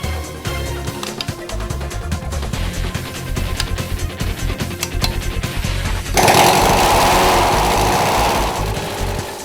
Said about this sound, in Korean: 잠시 뒤 요란한 시동 소리가 불안한 침묵을 한순간에 날려버렸다